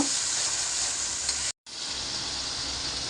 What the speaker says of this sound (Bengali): এখন আমি তেলে ভাজা নেব